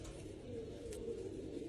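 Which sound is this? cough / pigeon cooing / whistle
pigeon cooing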